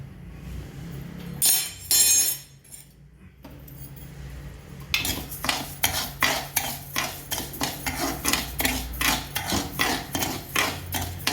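One cup of rice roasts in ghee in a pan, stirred with a metal spoon that scrapes and clinks against the pan in a quick, regular rhythm. A brief louder clatter comes first, then a short pause.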